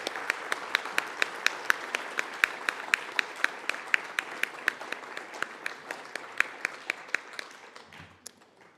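An audience applauds award winners at an education week ceremony, with crisp, rhythmic claps standing out in front of the crowd and tapering off toward the end.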